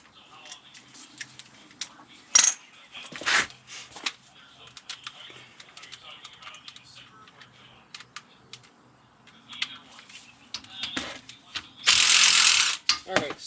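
Ratchet clicking while differential cover bolts are loosened on a Chevy Avalanche, with scattered short mechanical clicks and metallic rattles, a few sharper clanks and a hissing burst near the end, under occasional quiet talk.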